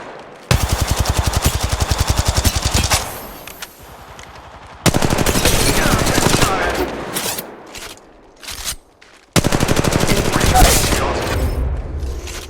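Rapid automatic gunfire bursts from the mobile battle royale game Apex Legends Mobile, set in Kings Canyon, come in three loud sustained volleys separated by brief pauses, with faint game voice lines underneath.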